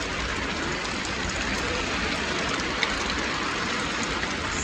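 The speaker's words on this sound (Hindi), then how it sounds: "लगातार इतनी बारिश गरीब बंदा बर्दाश्त नहीं कर सकता।" Steady rain falls over a rural village home, a continuous soft hiss with no breaks and no voices.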